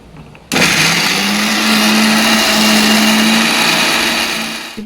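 A kitchen mixer grinder blends a green paste, starting abruptly into a loud, close, high-pitched whirring roar that holds steady for several seconds before easing slightly at the end.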